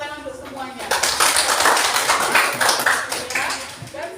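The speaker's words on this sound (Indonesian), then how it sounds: "Untuk hari ini Ibu sampaikan terima kasih dan tepuk tangan untuk semuanya." A classroom of students bursts into applause partway through, a dense patter of many hands clapping steadily for a few seconds, close and fairly loud, after a teacher's voice at the start.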